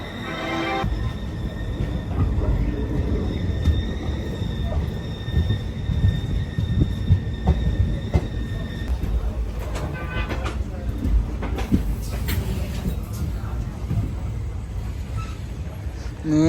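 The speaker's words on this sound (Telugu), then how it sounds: "ట్రైన్ సూపర్ స్పీడ్లో కొడతాడు" A passenger train on the Kurnool to Tirupati route runs fast, heard from inside as a continuous heavy rumble with rattling carriage clatter and faint rhythmic wheel clicks throughout.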